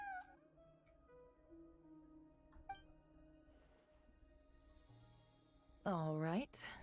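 A cat in the video game Genshin Impact gives a short, loud, rising meow near the end, following a stretch of quiet game music and soft effects.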